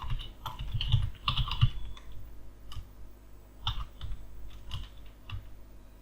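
Typing on a computer keyboard while writing code for a Vega-Lite chart, with close, quiet key clicks arriving in short bursts and scattered single taps and pauses between them, no voice.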